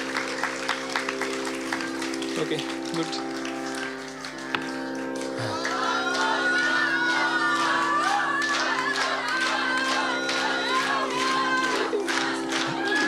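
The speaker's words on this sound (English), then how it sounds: "Another round of applause." Audience applause and scattered cheers at a live music festival, a crowd clapping under a sustained droning tone from the stage, with a few spoken words over it.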